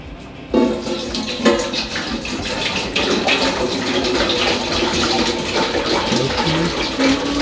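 Tap water pours steadily into a container for homemade ballistics gelatin, a sudden loud rush that stays continuous and close, with a brief faint voice.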